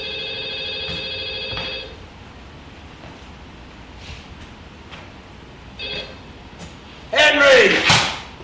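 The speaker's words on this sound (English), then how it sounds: "The phone rang." Old telephone bell ringing in a television scene: a loud ring of almost two seconds, a quiet pause with faint room noise, a second short ring, then a loud voice breaks in at the end.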